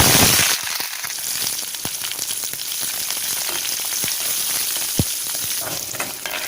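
Chopped onion and curry leaves fry in hot sesame oil after mustard seeds pop, tempering for a radish sambar, with a loud, steady sizzle and scattered crackles and pops throughout.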